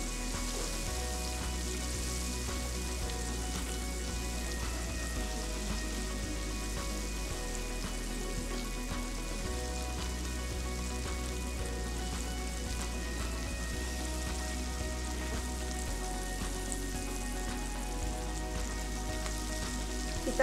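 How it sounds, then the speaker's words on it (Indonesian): Finely minced garlic sautés in a pan with a faint, continuous, even sizzle and crackle over a low steady hum, with no voices throughout. "kita masukkan bawang putih yang sudah dicincang halus. Kita tumis sampai bau harum."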